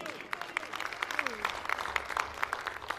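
Audience applause welcoming a co-anchor onto the stage at an evening poetry and music gathering, steady clapping across the whole stretch with crowd noise and a voice briefly over it.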